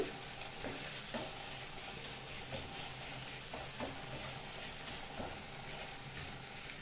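Masala with curry leaves for egg kothu chapati sizzles steadily in a pan over a low flame, with a spoon or spatula scraping and stirring in short, irregular strokes close by.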